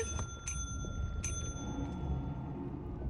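Bell rung in the video game Lethal Company, two bright metallic strikes in quick succession against a steady low engine-like rumble, with a faint third ring later.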